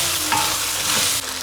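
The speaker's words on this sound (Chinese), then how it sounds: "把猪肉上的油炒出来以后，倒入豆角， 豆角炒变色，下入洋芋" Pork stir-fries with green beans in a hot pan as potatoes are added, giving a loud, close, continuous sizzle broken by the scrape and clatter of stirring.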